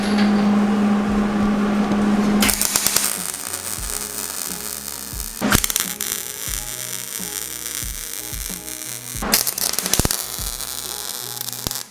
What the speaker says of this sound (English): now I just have to finish a couple welds here